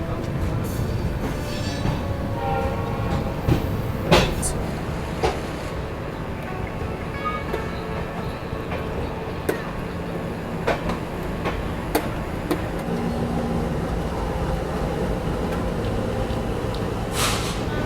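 Interior of the Hisar Duronto Express arriving at Sadulpur Junction in Rajasthan: a steady low rumble of the moving coach, with occasional clicks and knocks over rail joints and metallic clanks as it slows.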